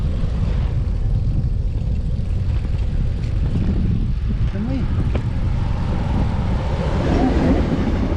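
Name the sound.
train passing near elevated cycle path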